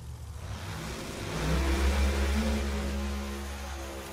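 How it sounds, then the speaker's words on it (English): Pro Mod drag race cars run down the strip in eliminations at the Menards Nationals, a heavy engine roar that swells to a peak and then slowly fades, heard from a distance. "Doug Winters has to jump off the throttle right away, and it's going to be all Jose Gonzalez"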